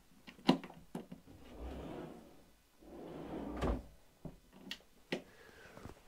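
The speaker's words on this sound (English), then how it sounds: "Big deep drawer there" Wooden drawers aboard a motor yacht slide open and shut several times nearby, with rumbling runner noise and sharp knocks as they stop.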